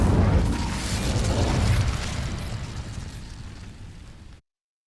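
An Incendio fire spell cast in the Hogwarts Legacy video game, a loud roaring whoosh of flame that bursts at once and then slowly fades over several seconds before cutting to silence, with no voices.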